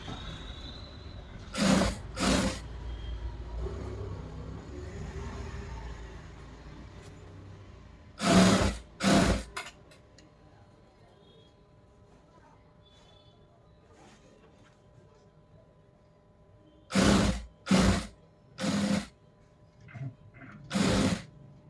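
A sewing machine stitching a frill on a frock, running in short separate bursts of two or three quick passes spread across a quiet room.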